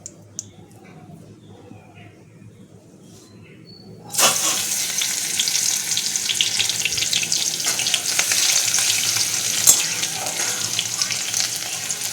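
Garlic hits hot cooking oil after about four seconds of near quiet, setting off a sudden loud, bright sizzle that holds steady and dense to the end.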